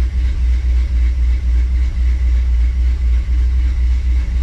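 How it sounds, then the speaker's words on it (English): A 1957 Chevy engine, newly converted to electronic fuel injection, idles close up with a deep, steady rumble and a slightly lumpy, cam-like pulse that stays even throughout. "I'm gonna let this thing idle a little bit"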